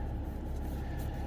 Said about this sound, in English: I'm pretty sure you just hear, like, car rumble